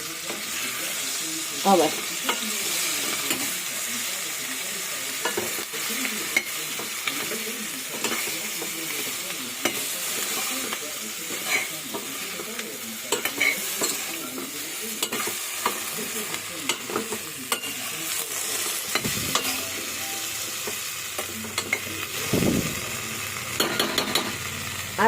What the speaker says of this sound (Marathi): हांव स्पुनान मातशी मिक्स करून दाखयत तुमका.